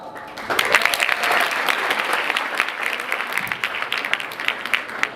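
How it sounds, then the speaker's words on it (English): An audience at a theatre performance breaks into sustained applause, dense clapping swelling quickly and continuing loudly, with a few sharper individual claps standing out toward the end. "Let us give a big clap hand"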